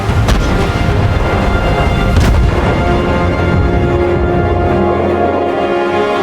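Naval artillery duel between the Russian cruiser Novik and the Japanese cruiser Tsushima, with dense, loud, continuous rumbling booms and a couple of sharper blasts standing out early on.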